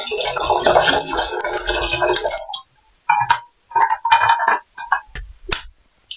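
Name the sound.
pouring water into a cooking pot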